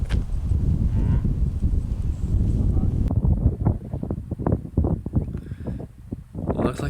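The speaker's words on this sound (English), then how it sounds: "that wind is whipping" Strong wind buffets the microphone on an open disc golf course, a loud blustery rush for the first half. After that it gives way to gusty bursts, with commentators talking over it.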